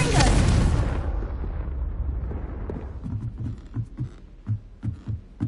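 A Confringo fire spell is cast in Hogwarts Legacy: a loud fiery blast bursts at the start and fades over a second or two, followed by faint rhythmic thumps and low rumbling.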